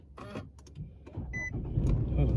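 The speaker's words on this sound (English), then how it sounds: "hold on, I gotta turn the car on" A car engine cranks and catches, building into a steady low rumble after a few clicks and a short mechanical whir, with a brief voice near the start.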